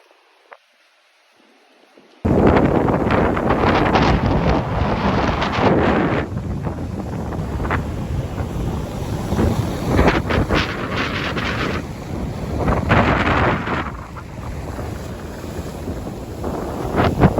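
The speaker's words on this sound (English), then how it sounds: "This is the ocean that's right behind me" Ocean surf and gusting wind on a beach at night, a loud continuous roar with surging swells and heavy wind buffeting against the microphone.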